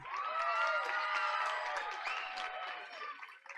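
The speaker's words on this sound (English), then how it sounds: "Audience, let's give them another round of applause." An audience at a school board of education meeting applauds and cheers for a sports team and its coaches, with clapping blended with whoops and shouted voices, loudest at the start and tapering slightly.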